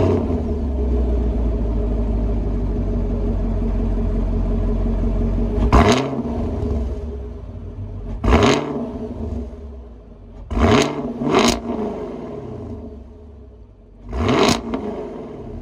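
A 2022 Chevrolet Camaro 2SS 1LE with its 6.2 liter pushrod V8 idles with a deep rumble, then delivers five sharp revs that rise and fall back, loud and close with no talking.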